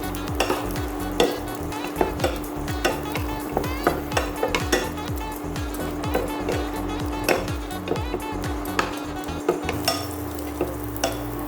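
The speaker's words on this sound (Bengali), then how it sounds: "ঘিয়ের মধ্যে কাজু কিশমিশটাকে একটু ফ্রাই করে নেব।" Cashews and raisins fry in hot ghee in a pan while making carrot halwa, giving a steady sizzle broken by regular stirring scrapes and clinks of a spoon against metal, close and fairly loud with no voices.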